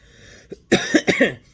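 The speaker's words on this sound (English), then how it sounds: "I just have this real bad chest cough" A harsh, chesty cough rings out close up, a quick burst of three or four rough hacks after a short throat sound.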